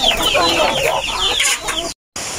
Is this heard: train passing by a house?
no